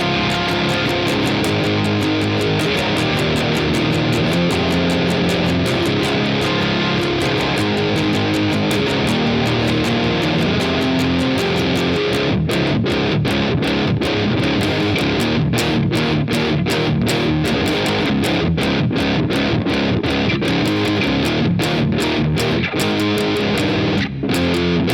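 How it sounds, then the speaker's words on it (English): Electric guitar with heavy distortion playing a song's riff, a dense, loud, continuous wall of crunchy tone with rapid rhythmic chugs in the second half. "Let's click the distortion on so we can hear how that actually sounds with distortion."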